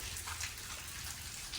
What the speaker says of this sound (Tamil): மழை விட்டு பிடிச்சிட்டுக்குது.